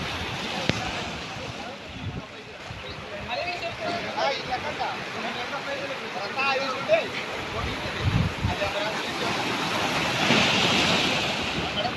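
Sea waves wash over a rocky, seaweed-covered shoreline where fishermen work nets, a steady rushing surge that swells toward the end, mixed with wind noise on the microphone.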